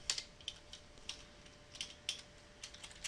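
Keys on a computer keyboard tap out Small Basic code in a soft, uneven stream of distinct clicks, close but quiet over a faint steady hum.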